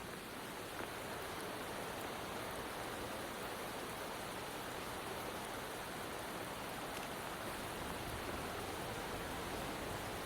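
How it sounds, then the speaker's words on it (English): Steady, dense rain hiss from the video game Wuthering Waves fills the scene evenly and loudly, a continuous broadband downpour with no voices. "Are you trapped here by the rain?"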